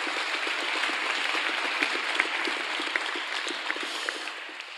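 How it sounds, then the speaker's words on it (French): Audience applause at a school ceremony honoring a lycée teacher, a thin, steady patter of scattered claps from a modest crowd, fairly quiet and continuous with occasional sharper individual claps. "Merci d'applaudir Olivier s'il vous plaît"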